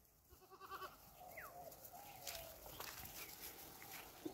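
A small herd of goats out grazing in the afternoon near a small pond, with a faint bleat and soft shuffling of hooves across a quiet, distant outdoor scene.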